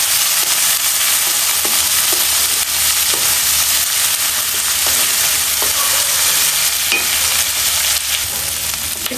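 Chopped onion, green chili, ginger and garlic fry in hot oil with a loud, constant sizzle, broken by occasional scrapes of a stirring spoon.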